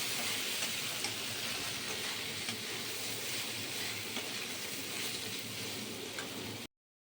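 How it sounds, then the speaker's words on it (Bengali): Egg scramble (bhujia) fries in a pan, with a steady, moderate sizzle and faint stirring that continues evenly before stopping abruptly. "এবারে ডিমের ভুজিয়াটা দিয়ে দিচ্ছি। এটা দিয়ে নেড়ে দেবো আর একবার।"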